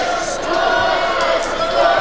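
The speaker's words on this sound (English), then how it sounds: "What is the crowd chanting?" A basketball arena crowd chants and roars at a men's college game. The noise is loud and sustained, with rising swells and no clear individual voices.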